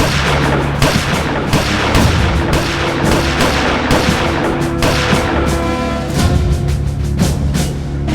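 Gunfire from a trained unit after a fire command in a televised crime drama, a loud sustained volley of overlapping shots and booms that fills the whole stretch without a pause.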